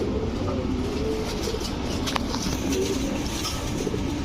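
Pigeons coo softly and repeatedly in a loft of female fancy and racing pigeons, low throaty calls over a steady background murmur.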